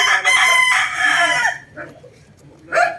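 A Boston Roundhead gamefowl rooster, a two-time winning sire, crows loudly and close by in one long, strained call, followed by a short softer cluck and the start of another harsh crow.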